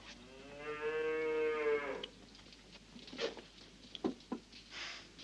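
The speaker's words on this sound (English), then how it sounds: "Relax, stranger. It's only my cow." A hungry cow gives one long, drawn-out moo close by, followed by quieter rustling and a few soft knocks, with no voices.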